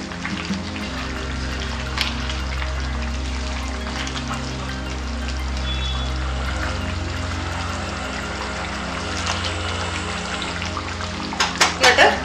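Chicken curry with garam masala mixed in a cooking pot, a steady close sizzle and bubbling with soft scraping of the spoon, a few sharper clinks of utensil against the pot near the end.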